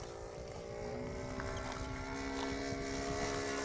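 Engine of a 1/5 scale Piper Clipped RC airplane running steadily, a continuous droning hum with harmonic tones and wind noise, sustained at moderate level throughout.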